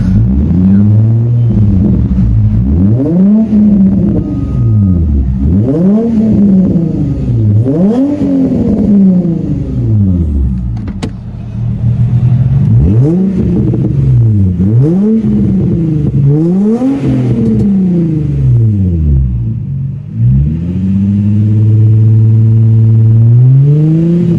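A warmed-up car engine with a modified exhaust revs hard over and over, each rev climbing and dropping, with a few sharp exhaust pops between the loud bursts.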